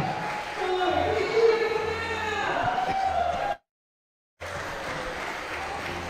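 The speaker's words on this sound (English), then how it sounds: "a round of applause from the crowd" A crowd at a youth lead climbing championship claps as a climber tops the route, a sustained burst of applause with voices and talk over it, cut by a brief gap of silence before the noise resumes.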